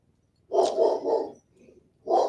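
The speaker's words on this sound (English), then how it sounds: "I have a barking dog in the other room" A dog barks from another room, several loud, rough barks in quick succession, then a softer lower sound and one more bark.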